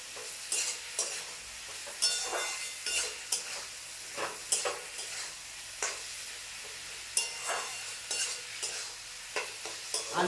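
Potatoes and pointed gourd fry in a cooked-down spice paste, giving a continuous sizzle broken by repeated scraping stirs of a utensil against the pan, close up with no talking.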